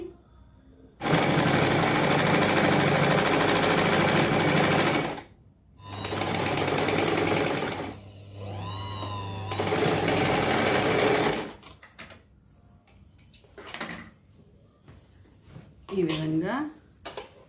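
A sewing machine stitches a Peter Pan collar in three long, loud, whirring runs at close range. Shorter stops and starts follow, and a voice talks in the pauses.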